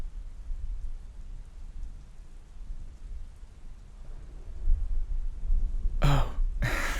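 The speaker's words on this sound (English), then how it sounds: "with that thunderstorm raging on outside, nobody's gonna hear you" Rain from a thunderstorm outside an attic, a low, steady rumbling wash that swells slightly toward the end, with two brief louder breathy bursts close by near the finish.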